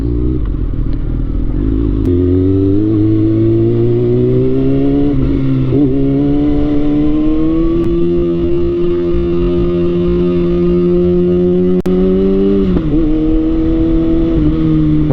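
Motorcycle ridden on a short trip home, its engine a loud, continuous close drone that climbs and dips in pitch as the rider accelerates and shifts, with no voices heard.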